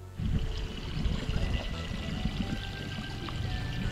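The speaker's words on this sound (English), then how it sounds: "So this hose right here is actually running from a tank that we have out here." Water from a hose fed by a tank pours steadily into a garden pond during a spring cleaning, a continuous close splashing rush with no talk.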